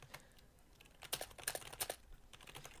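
Quiet, close typing on a computer keyboard, a steady patter of key presses speeding into quicker bursts of clicks near the end.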